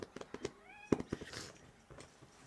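A domestic cat meows indoors, giving a few short, close cries among small household knocks and rustles.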